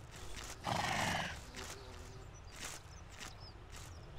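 A horse in the video game Abenteuer auf dem Reiterhof, turned loose on a pasture, lets out one loud neigh near the start, followed by soft scattered hoofbeats and quieter ambient sounds.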